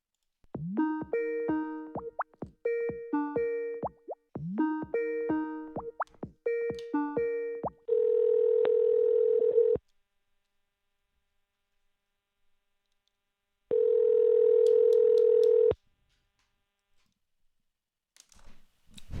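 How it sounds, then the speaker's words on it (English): Phone call being placed: a rapid series of harmonic DTMF keypad tones, then two long steady ringback tones separated by silence, clear and close with no talking. "let's make another dial here"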